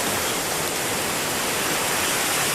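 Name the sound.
river water flowing during a morning bath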